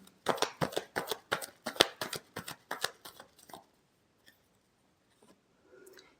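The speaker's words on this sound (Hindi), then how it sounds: "Last shuffle." Tarot cards are shuffled in a quick run of about a dozen crisp riffling slaps, close and clear, followed by near silence with a couple of soft handling sounds.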